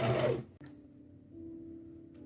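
A sewing machine stitches close to the fabric edge with the needle shifted fully to one side. It gives a steady, even motor hum that rises slightly partway through, following a brief louder rustle at the start.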